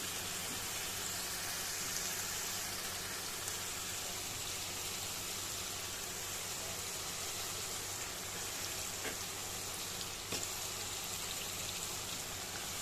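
Crab pieces are added to fried spice paste in a pan for a red, spicy crab curry. They sizzle with a steady, fairly quiet, continuous hiss and crackle that holds evenly throughout, with no talk over it.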